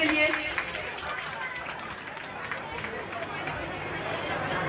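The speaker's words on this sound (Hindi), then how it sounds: "एक बार जोरदार तालियां हो जानी चाहिए" Applause from a crowd, a steady wash of many hands clapping at moderate distance, with some chatter mixed in throughout.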